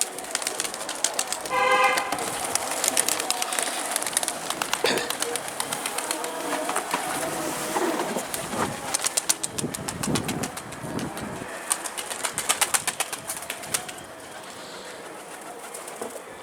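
Pigeons coo repeatedly close by, with bursts of flapping wings and rustling among them; a voice speaks briefly in the background.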